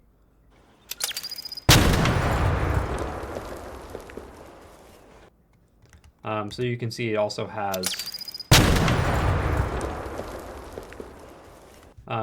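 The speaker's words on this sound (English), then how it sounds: "a really bright impact explosion followed by a convolution response like delayed tail" A designed Arc Raiders-style explosion made partly from shower-curtain recordings opens with a short tech beep, then a bright impact that decays into a long tail. Someone speaks briefly, and a second deep, booming blast with a trailing tail follows.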